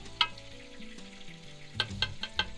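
Chicken frying in oil in a pan over a wood campfire, a steady close sizzle with a few sharper crackles and pops near the end.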